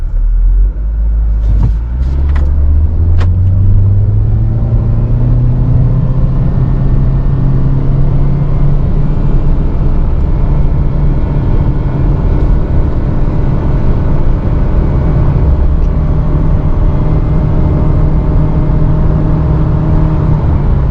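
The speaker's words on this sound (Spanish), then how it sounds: "cuando arrancamos desde parado, aceleramos a fondo y a la caja de cambios le cuesta bastante trabajo transmitir la potencia" A DFSK F5 with a CVT gearbox pulls away from standstill at full throttle. After a few clicks, the engine climbs to a loud, sustained droning whine that stays at one pitch for a long stretch, heard close from inside the cabin.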